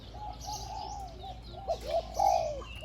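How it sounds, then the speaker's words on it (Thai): A caged songbird sings a two-tone song nearby in short tonal phrases, alternating softer and louder notes, the last ones strongest, over a low steady background hum. "นกสองเสียงนะครับ"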